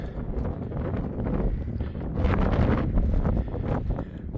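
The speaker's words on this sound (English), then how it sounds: "It's obviously very windy up here because of the sea breeze" Strong gusty sea-breeze wind on a hilltop above Combe Martin, North Devon, buffets a microphone with a low, rumbling roar that swells and eases in waves, with no one talking.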